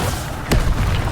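A fiery Incendio spell blast in the Hogwarts Legacy video game, heard as a single loud burst over a busy rumbling game background.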